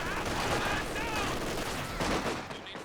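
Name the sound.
machine gun suppressing fire in Company of Heroes 2 video game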